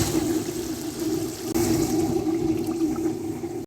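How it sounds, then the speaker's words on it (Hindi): Water pours steadily into a pot of beef karahi gosht, a continuous splashing gush close up with no one talking. "तो अभी बीफ को अच्छी तरह से पकाने के लिए इसमें हम ऐड करेंगे पानी"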